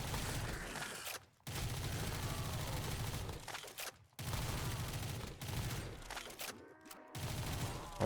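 Rapid automatic gunfire in the Black Ops 3 custom zombies game, with sustained bursts of shots broken by brief silent gaps as firing stops and resumes, at moderate level.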